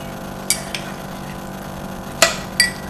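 A utensil clinks against a bowl while pizza dough ingredients, including a little salt, are stirred together by hand. Four short, sharp knocks come at uneven intervals over a quiet background.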